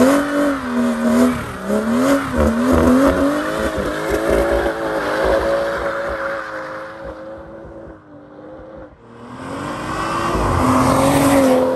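A BMW M240i pulls hard from close by, its straight engine note climbing through the revs with a brief dip and gear change before surging again, with a slight tire squeal and no talking.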